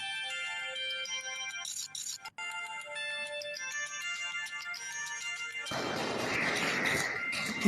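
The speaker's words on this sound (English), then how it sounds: "Now you receive a phone call." A phone ringtone plays as a steady melodic electronic tone, then gives way to a loud, harsh burst of noise near the end.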